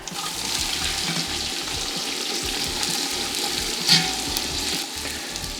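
Onions hit hot oil with spices in a pot for a Durban curry, giving a steady close sizzle and crackle with a brief louder burst partway through, no voices.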